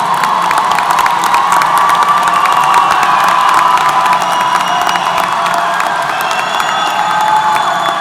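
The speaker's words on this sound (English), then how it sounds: "Graduates, it's your chance to give them a round of applause and thank them for their support." Graduates at a university summer commencement ceremony cheer and applaud their families, a loud sustained crowd roar with whoops and shouts layered over clapping, continuous for several seconds.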